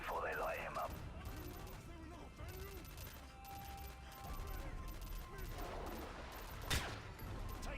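Faint, muffled bursts of gunfire from Call of Duty: Modern Warfare 3 rattle on and off under low voices, with one sharper shot standing out near the end.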